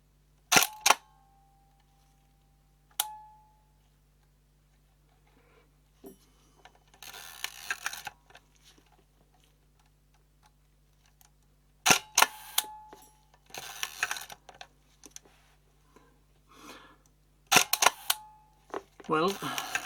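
A Prontor CF leaf shutter in a Hasselblad Planar CF 3.5/100 T* lens, one with a shutter problem, fires in several sharp, crisp clicks separated by quiet gaps, mixed with brief handling rustles and noise bursts.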